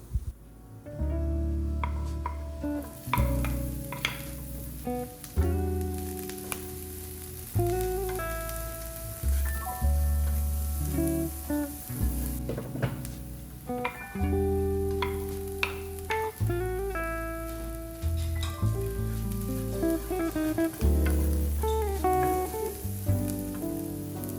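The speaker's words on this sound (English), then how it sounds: "I'm just frying up my chickpeas with, I use organic extra virgin olive oil" Chickpeas sizzle and crackle steadily in hot organic extra virgin olive oil, with scattered pops and occasional clatters of a utensil stirring the pan.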